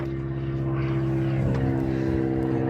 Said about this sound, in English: Biplane flying over.